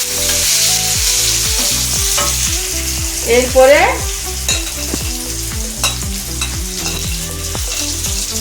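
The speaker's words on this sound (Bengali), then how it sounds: "এবার এই পেঁয়াজটা একটুক্ষণ লাল হয়ে ভাজা হতে থাক" Chopped onions sizzle loudly and steadily in a hot pan, with repeated scraping stir strokes and a brief spoken word midway.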